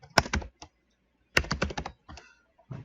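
Clattering keystrokes on a computer keyboard come in quick clustered bursts with short pauses between them, close and crisp, with no talk.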